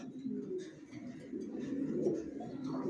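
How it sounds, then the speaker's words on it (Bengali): Soft, low cooing of racing pigeons repeats close by, a steady murmur of several birds with faint rustling behind. "অরিজিনাল রেসার, জনসনের, লংয়ের, সব লংয়ের কবুতর পালি।"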